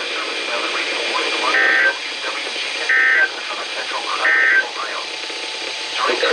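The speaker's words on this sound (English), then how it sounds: "This ends the test of the National Weather Service weather radio warning alarm." A National Weather Service weather radio warning alarm test tone sounds as three short, evenly spaced electronic beeps over a hissy, noisy radio background.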